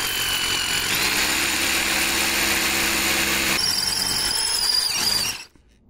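An SDS plus hammer drill grinds and hammers loudly into rocky ground with a high squealing whine, running continuously for several seconds before stopping abruptly.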